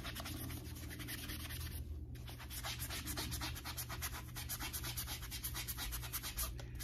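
A brush scrubs a shoe sole with castile soap in a fast, steady back-and-forth rhythm, close and continuous scratchy rubbing with no talk.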